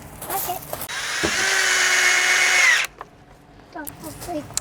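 A power drill bores into wood for a scrap-built herb planter box, a steady loud whine lasting about two seconds before cutting off, with voices and light handling noises before and after.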